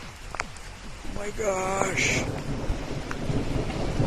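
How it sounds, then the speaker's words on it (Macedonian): Thunder rumbles low and long through steady rain, swelling and lingering for several seconds while a voice speaks briefly over it. "Ала грми сега."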